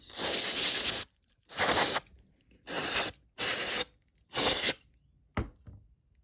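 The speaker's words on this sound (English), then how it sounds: "Want to get in there with contact cleaner." Contact cleaner sprays onto the wafer switches of a Heathkit HW-101 radio in five close hissing bursts of about half a second to a second each, separated by short pauses, followed by a final brief puff.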